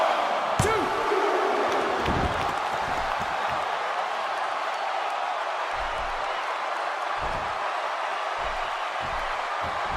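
Steady wash of arena crowd noise in the WWE 2K16 wrestling game, a constant roar under thuds and impacts, with a sharp slam near the start and scattered low bumps later.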